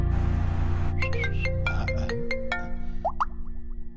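A mobile phone ringtone plays a bright melodic sequence of tones over a low steady background hum, clear and close, ending in a few rising chirps; no one speaks.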